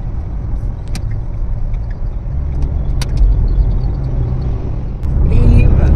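A car cruising along a road on a trip toward a sea beach gives a steady low engine and tire rumble with faint clicks and rattles inside the cabin, growing louder near the end.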